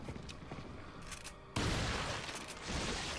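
Shotgun fire rings out in Resident Evil 4 during gameplay, a heavy blast that suddenly fills the sound and then rumbles on loudly over busy game noise.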